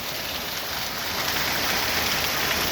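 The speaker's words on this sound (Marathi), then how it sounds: "एक तास चळकधार पाऊस अतिवृष्टी" Heavy cloudburst rain in Purna taluka, Parbhani district, Maharashtra, pours down in a steady, dense roar, with no pauses and no other sounds.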